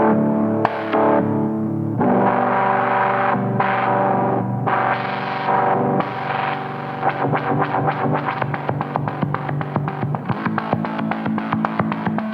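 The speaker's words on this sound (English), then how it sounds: "all the modulation you're hearing is coming from the LFO and the filter" Electric guitar run through Guitar Rig 2 software with a twin-type amp, fuzz and distortion, its tone swept by LFO and filter modulation; sustained chords give way to rapid pulsing, stuttering notes, loud and continuous with no talking.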